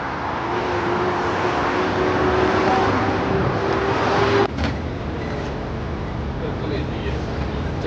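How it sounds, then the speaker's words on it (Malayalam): Steady roar of cars passing at speed along a road in Makkah, a continuous broadband traffic wash with a brief dip midway, heard close and loud. "വണ്ടിയൊക്കെ നല്ല സ്പീഡിലാണ് കേട്ടോ പോണത്."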